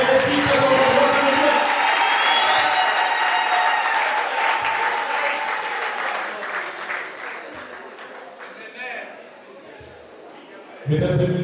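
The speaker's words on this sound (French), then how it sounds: "si on peut les effets et les applaudissements frénétiques" Loud, sustained applause from a crowd at a religious wedding ceremony, dense clapping and cheering that gradually thins toward the end before a brief fresh burst.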